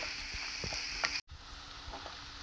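Chikkudukaya (broad bean) fry is stirred in a pan over low heat, giving a steady soft sizzle with a few light scraping strokes and a brief dropout midway.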